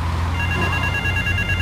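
A telephone rings in the GTA 3 video game, a steady electronic trill heard close and loud over a low background hum. It runs continuously through the whole stretch with no other sounds.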